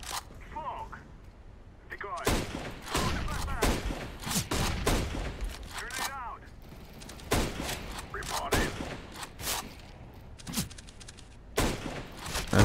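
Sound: gunfire in the video game CS GO

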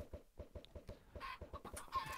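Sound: chickens clucking in a video game

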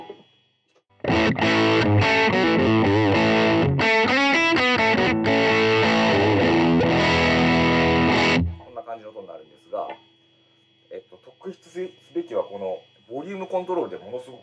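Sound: guitar through Golden Valve distortion pedal switched on

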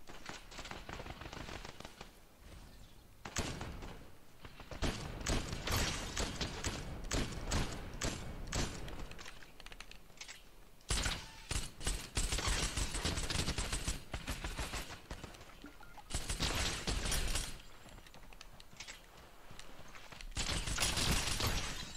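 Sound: gunfire from a video game, Fortnite

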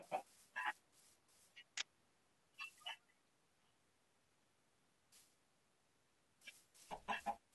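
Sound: chickens clucking in Minecraft video game

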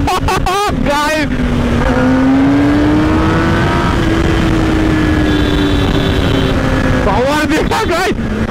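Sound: Kawasaki Ninja ZX-10R motorcycle engine revving

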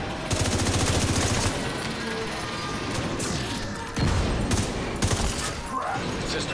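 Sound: foam launcher fire from enemy in the video game The Division 2

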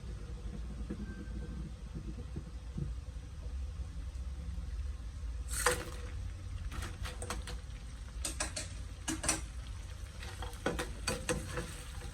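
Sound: stir-frying chili curry paste in a wok

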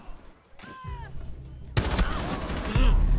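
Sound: gunfire in video game Rainbow Six Siege

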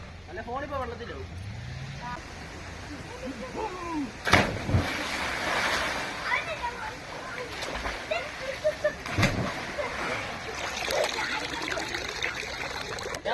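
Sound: water splashing while bathing in a stream

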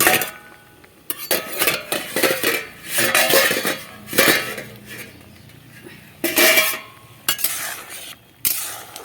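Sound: lifting the lid off a cooking pot

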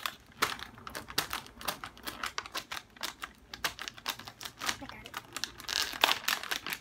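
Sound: ripping open a package of Oreo cookies

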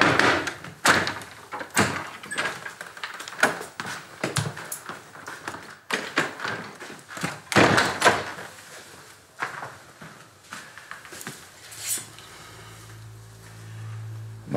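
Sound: door

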